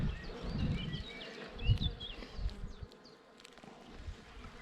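Honey bees buzzing around an open hive during an inspection, a low droning hum with a few louder passes close by and faint birdsong in the background, quiet overall.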